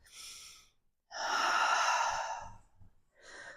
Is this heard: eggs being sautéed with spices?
no